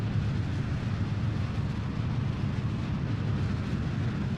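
A rocket engine roars steadily in Kerbal Space Program after stage separation, a dense, continuous rumble with no pauses that stays loud and unchanging throughout.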